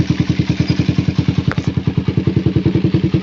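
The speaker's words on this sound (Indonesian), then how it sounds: "Sekarang kita pastikan kita hidupkan motornya." A Suzuki Satria FU motorcycle engine runs at a steady idle up close, its exhaust giving a loud, even, rapid thumping pulse, with a brief click partway through.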